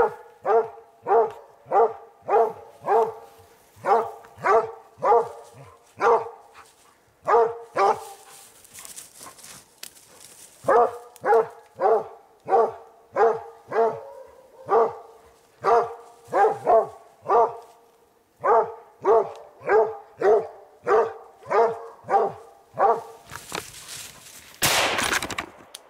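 Hunting dogs at a Swedish bear hunt bark in long steady runs of sharp, loud, close barks, pausing briefly now and then, with a burst of rustling noise near the end.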